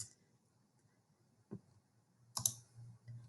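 A few sharp computer mouse clicks on a school library website, spaced apart with two distinct snaps about a second apart, close and crisp over a faint low hum.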